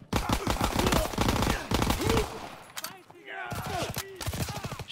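Bursts of automatic gunfire in the WW2 campaign, rapid loud volleys with short gaps and some shouting voices in the middle.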